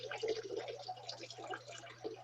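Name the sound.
water being poured near a phone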